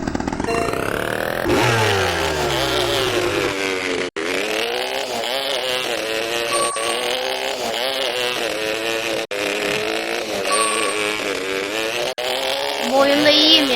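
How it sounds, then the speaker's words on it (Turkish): A motorcycle engine rumbles steadily and loudly throughout, its pitch rising and falling slightly with brief dips in revving. "Zaten motorun sesi var"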